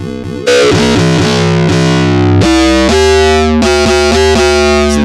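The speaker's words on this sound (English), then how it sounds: "That actually takes distortion pretty well." Synthesizer notes run through a Zoom MS-50G multi-effects pedal set to distortion, loud buzzing sustained tones with a series of plucked, gliding note changes played alone, no voices.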